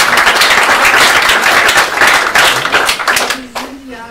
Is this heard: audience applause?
yes